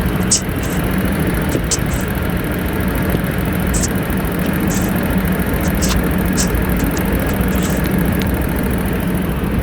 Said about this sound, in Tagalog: maingay yung motor niya